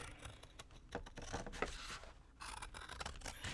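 Scissors trimming excess paper on a small handmade journal, a series of quick close snips and crisp paper cuts in uneven bursts, fairly faint with brief pauses between strokes.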